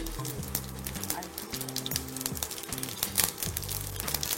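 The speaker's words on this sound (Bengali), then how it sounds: "গোটা জিরে ভাজতে হবে" Whole cumin seeds crackle and sizzle in hot oil in a pan, a busy, close frying sound under a low background tone, with scattered sharp pops and clicks.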